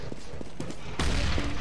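Gunfire in a video game: a quick burst of shots, with a louder, denser volley of rapid fire cutting in partway through, close and prominent.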